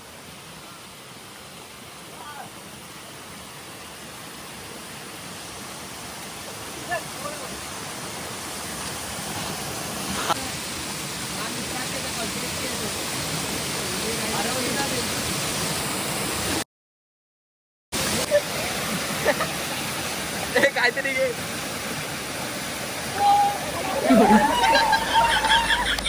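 Usgaon waterfall pours in a steady, broad roar of rushing water that stays loud throughout, with people talking nearby over it.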